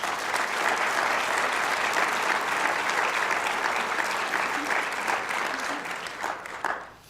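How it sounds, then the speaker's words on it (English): Audience at a community report presentation claps steadily for several seconds, a full, even wash of applause that thins and fades near the end. "Could you give them a round of applause?"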